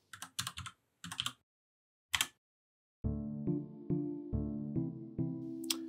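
Keys clatter on a computer keyboard as a username and password are typed: a few quick bursts of clicks, then a run of louder, evenly spaced key strikes close by.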